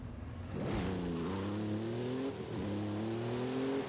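Ford Bronco in Forza Horizon 5 revving hard at the start of a dirt race, the engine note climbing in two rising surges with a brief dip between, loud and close with no talking.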